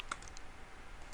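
Typing on a computer keyboard at a Windows Server 2012 domain controller: a few quick, faint key clicks early on, then quiet room tone.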